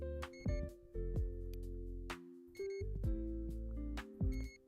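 Checkout scanner beeps at a shop counter in the Trading Card Shop Simulator video game, repeated short electronic tones over a steady synth music loop, clear and moderately loud.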